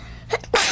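A quick sneeze: a short sharp intake followed by a burst of breathy noise, close by and brief.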